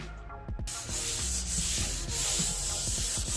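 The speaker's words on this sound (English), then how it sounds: "now I'm just gonna do a light sanding and we're ready to stain the wood" Steady scratchy rubbing of sandpaper on wood, close up, with light repeated strokes and no talking.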